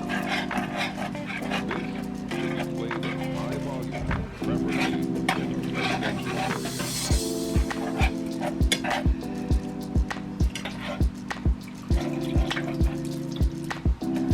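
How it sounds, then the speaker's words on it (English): A spoon scrapes the bottom of a pan while beef broth is poured in for Salisbury steak mushroom gravy, giving a steady sizzle and wet stirring with repeated sharp taps against the metal. "you can pour in a little at a time, like this, making sure you scrape the whole bottom of the pan to get everything up"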